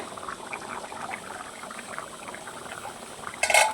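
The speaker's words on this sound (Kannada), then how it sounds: "ಈಗ ನೋಡಿ, ಇದು ಕೊತ ಕೊತ ಅಂತ ಕುದ್ಬಿಟ್ಟು ರೆಡಿಯಾಗಿದೆ." Sambar (saaru) with cucumber, jackfruit seeds and basale greens simmers at a steady bubbling boil, a dense soft crackle of popping bubbles, with a brief louder splash or clatter at the end.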